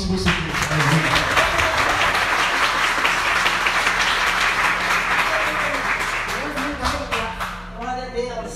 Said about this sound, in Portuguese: Nessa noite, aplauda o Senhor novamente se você quiser.